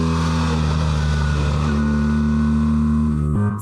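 A BMW R 1300 RT motorcycle engine hums steadily up close, its tone dropping as the rider shifts gear by foot, with a brief clunk near the end.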